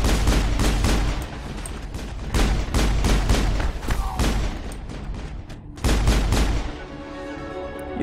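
Pistol fire in the video game Mass Effect during the Eden Prime mission: loud, sharp shots in quick irregular bursts, with brief pauses between volleys and game ambience underneath.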